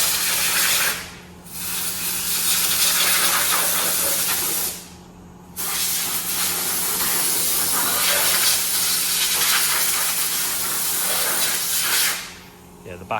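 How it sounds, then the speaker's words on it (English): Compressed air blasting in long hissing bursts over the back of a 370 tractor to find an oil leak, loud and close, stopping twice briefly before resuming. "Andrew's just blowing it out, trying to find where it's coming from so we can sort that one out"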